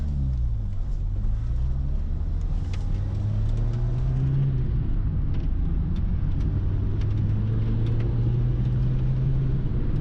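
A Renault Super 5 TL with a carburetted 1-litre engine drives along, its low droning engine note rising slowly and steadily through the revs under constant road rumble from inside the car.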